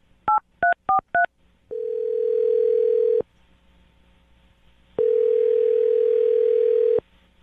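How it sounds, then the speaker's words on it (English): A telephone keypad sends four quick dialing beeps, then two long, steady ringing tones with a pause between them. The sounds are clear and close, and no one speaks. "I'm going to dial his phone number right now."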